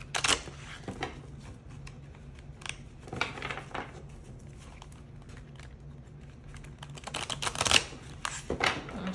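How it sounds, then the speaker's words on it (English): Large tarot cards riffle and slap in a few short bursts, crisp snapping and shuffling close up, separated by quiet pauses with no voices. "I always have a hard time shuffling these bigger cards"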